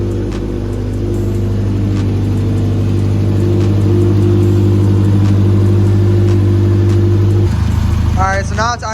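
Built Subaru STI with a 20G turbo running after its first start, a loud steady low engine drone with strong harmonics throughout, dropping to a lower idle pitch near the end.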